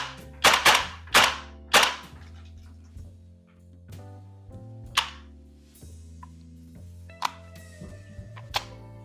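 A WellPro PP-19-01 Vityaz gas blowback airsoft gun fires in sharp, loud cracks: a quick cluster of three shots near the start, then single shots spaced out, each with a short metallic ring after it.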